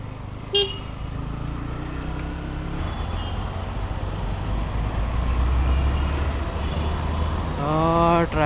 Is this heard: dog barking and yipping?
no